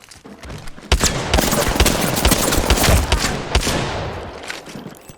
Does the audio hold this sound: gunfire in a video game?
yes